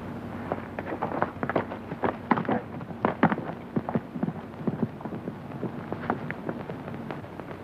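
Several horses clip-clop off as riders move away, a loose, uneven run of hoof clatter at moderate distance with no talk over it.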